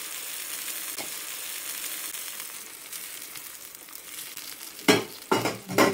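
Fish curry with tamarind juice being stirred in a pan: a steady soft sizzle, then a few loud scraping strokes near the end.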